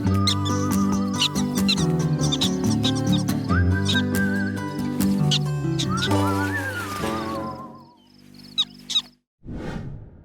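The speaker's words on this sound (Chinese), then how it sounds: "你听他们的叫声像不像求个3连" Marmots call in a lively group: a rapid run of high squeaks, chirps and whistles with rising and falling pitch, layered and close, ending in a couple of sharp isolated whistles after a short pause.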